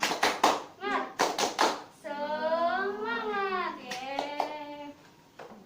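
Children in a Grade 5 classroom lesson clap their hands in a quick, rhythmic burst of several sharp, close claps, followed by a voice talking in a sing-song chant.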